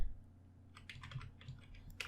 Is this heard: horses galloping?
no